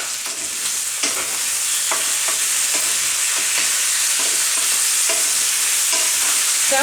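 Potatoes and onions sauté in olive oil, sizzling steadily and loudly throughout while a utensil stirs them, with scraping and clinking strokes recurring roughly every second, up close.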